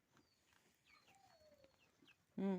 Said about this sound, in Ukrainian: І цеплята у нас тут ходять.